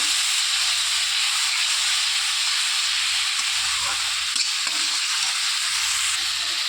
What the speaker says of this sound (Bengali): তেলের ওপর মশলাটা দিয়ে লবণ আর হলুদ দিয়ে দিয়েছি দিয়ে ভালো করে কষিয়ে নেবো মশলাটাকে